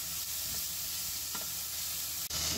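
Chopped onion sizzles and fries in a hot pan after a pinch of salt, with a steady close hiss and occasional soft stirring scrapes, no voices.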